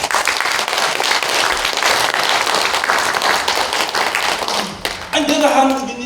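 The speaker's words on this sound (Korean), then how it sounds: "박수 이럴 때 나와요." An audience at a lecture in a National Assembly conference hall bursts into loud, dense, sustained applause that fades near the end as a voice resumes speaking.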